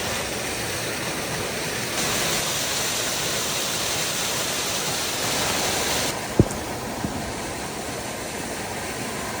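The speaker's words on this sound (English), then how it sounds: "There she is, Buttermilk Falls. This is one of my favorite waterfalls in Pennsylvania" Buttermilk Falls in Lehigh Gorge, Pennsylvania, roars with a steady broadband wash of falling water, loud and continuous throughout, with a brief sharp knock partway through.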